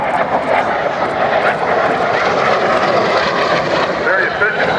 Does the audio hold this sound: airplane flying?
yes